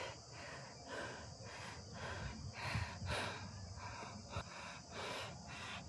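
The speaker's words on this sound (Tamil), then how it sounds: "ரொம்ப மூச்சு வாங்குது." A person breathes heavily and rhythmically after climbing steep steps up to a hilltop temple, with repeated faint, raspy inhales and exhales and a few sharper snort-like breaths.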